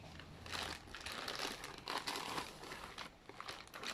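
Plastic packaging crinkles and rustles close by as the box of an Asus ROG Strix 550W power supply is opened. The rustling is soft and continuous with small crackles and no speech.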